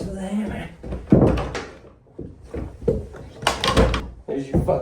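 A custom-framed wooden treehouse door is fitted and shut, giving several close knocks, thuds and a final solid thunk, while a person speaks between the impacts.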